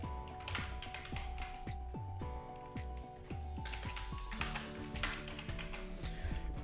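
Steady typing on a computer keyboard, quick light key taps in uneven bursts as an address is entered into a registration form, close and fairly quiet with no talk.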